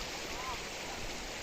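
A river in Jumla, Nepal, flows with a continuous, fairly faint wash of water heard from its bank.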